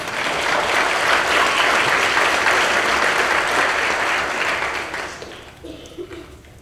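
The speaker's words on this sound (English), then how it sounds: "give them another round of applause" Loud sustained applause from the audience at an associate degree nursing pinning ceremony for graduating nurses, a dense wash of clapping that fades out near the end as a voice begins.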